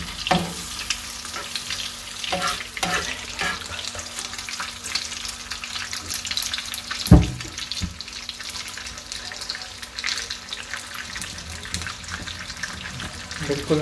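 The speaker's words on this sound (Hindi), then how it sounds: "ऑन कर देंगे और इसको हल्की आंच में बना देंगे। शैलो फ्राई इसको करना होता" Egg patty shallow frying in a pan over a low flame for a burger, giving a steady, soft sizzle with a brief louder clatter midway.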